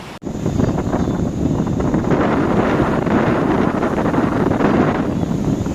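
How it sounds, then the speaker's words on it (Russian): Strong wind buffets the microphone in a steady, loud roar of low rumble that holds for several seconds, with no voices over it. "Потому что ветер сильный."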